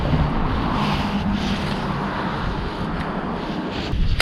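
Strong wind buffets the microphone at a fishing spot, a steady loud rumbling roar that runs the whole time with little letup.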